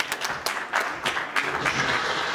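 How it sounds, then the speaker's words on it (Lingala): Applause from an audience at a Congolese community gathering in Iowa, a steady mix of hand claps that rises and falls briefly, moderately close, with no talk over it. "donc on doit lui applaudir"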